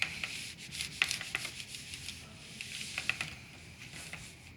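An iron is pressed and rubbed firmly over an iron-on transfer on a dark t-shirt, making a soft continuous scuffing with light rhythmic swishes and faint taps, close and quiet.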